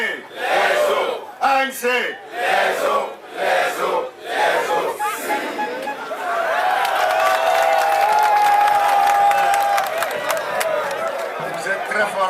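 Rally crowd in Kara, Togo, greeting an ANC opposition delegation: amplified speech with loud call-and-response shouts gives way to sustained, dense cheering and chanting, with a high whistle-like tone running through the roar.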